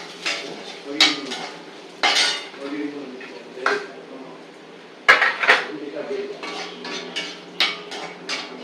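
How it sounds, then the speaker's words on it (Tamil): Ingredients dry-roasting in a pan over a medium flame for a white pumpkin rasavangi, with a metal spoon clinking and scraping against the pan in irregular bursts, close and moderately loud. "இதை நம்ம நல்லா மீடியம் ஃப்ளேமில் வச்சு நம்ம வறுக்கணும்."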